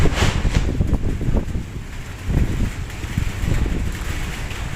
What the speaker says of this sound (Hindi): बहुत भयानक तूफान आ रहा है